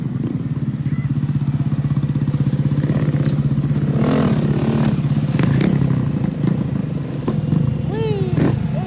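A Honda Grom motorcycle idles in a steady low putter close by, with a few clanks and scrapes and brief voices and chatter over the engine.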